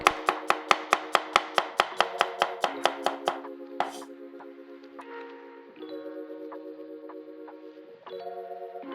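Rapid, steady knife chopping of garlic on a cutting board, about a dozen crisp close taps, then the chopping stops and a quiet tonal hum carries on.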